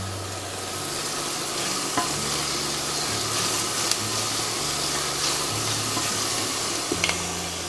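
Onions dropped into hot oil in a pot for a chicken masala soup, a loud, steady sizzle and crackle filling the whole stretch, with occasional stirring clicks and no talk.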